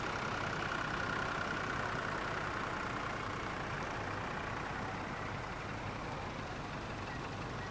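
Vintage tractor engines idle at an outdoor rally, a steady broadband rumble and hum that stays even and moderately distant throughout, with no voices.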